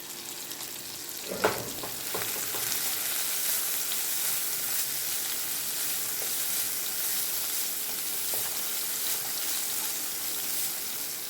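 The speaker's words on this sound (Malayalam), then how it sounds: "നന്നായിട്ടൊന്ന് മൊരിയിച്ചെടുക്കാം നമ്മുടെ മീനൊന്ന് തിരിച്ചിട്ട്" Fish sizzles steadily in hot oil in a pan, turned over to crisp for a Palakkad-style lunch; a brief clatter near the start, then a continuous close, even frying hiss with no talk.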